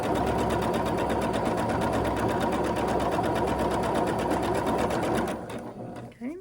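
A sewing machine runs in a steady, fast mechanical rhythm stitching the seams of a quilt block, close and continuous, then slows and stops near the end.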